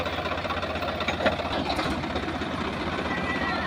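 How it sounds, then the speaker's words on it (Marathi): Two tractors stuck in a river run their engines together, a dense continuous knocking rumble close by, steady throughout with faint voices beneath. "तर फायनली दोन्ही ट्रॅक्टर चालू झालेले आहेत"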